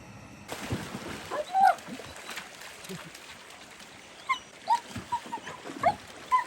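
Dogs whimper with short high squeaks and whines, scattered near and faint to moderate, over rustling and movement outdoors in South Canterbury backcountry.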